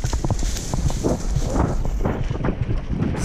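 Horses of an army mounted troop clip-clop steadily as soldiers ride during tactical training, hoofbeats close and continuous with a light wind rumble behind and no talk.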